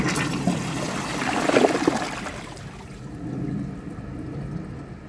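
A 2022 Kohler Elliston toilet flushes, giving a rushing swirl of water that peaks early and then settles into a fainter trickling refill, with no talking.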